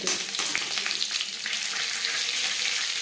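Dried red chilli, panch phoron and mustard seeds frying in oil as a tempering for vegetarian broccoli khichuri, giving a dense, bright hiss and crackle that stays close and steady throughout.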